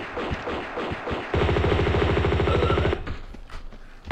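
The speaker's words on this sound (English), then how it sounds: "I'll quickly use the M16, actually" M16 rifle firing in the video game Tomb Raider II, a rapid automatic burst of evenly spaced shots lasting about a second and a half, preceded and followed by scattered single shots and game sounds.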